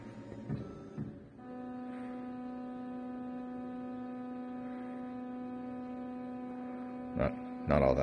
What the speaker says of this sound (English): Not all that terribly interesting to watch a machine home